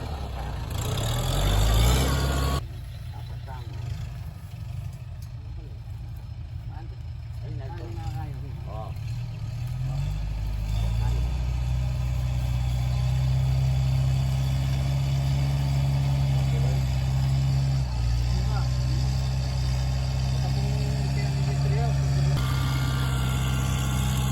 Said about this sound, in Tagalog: So imbes na payloader ginagamit, itong traktora nila.